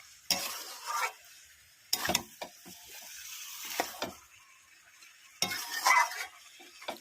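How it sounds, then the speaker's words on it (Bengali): Chicken pieces are stirred and fried in oil in a pan, with bursts of spoon scraping every second or two over a soft continuous sizzle, close up and without talk. "দেখুন এবার কি সুন্দর করে কষছে মাংসটাকে"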